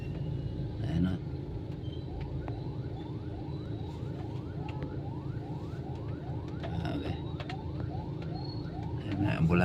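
Ambulance siren sweeping repeatedly with a wailing up-down rhythm, moderately distant amid congested two-lane traffic with motorcycles and idling cars, while a voice talks over it.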